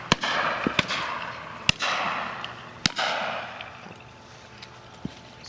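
Shotgun shots at a pheasant and partridge shoot in Dorset: five or six sharp, loud reports spread irregularly, some followed by short rolling echoes, over faint outdoor background.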